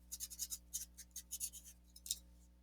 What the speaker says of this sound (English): I'm going to write it on both sides.